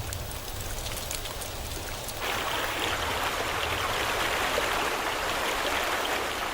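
Heavy rain falls on a once-dry sandy riverbed in the wild, a steady broadband hiss that swells noticeably louder partway through and keeps pouring without letup.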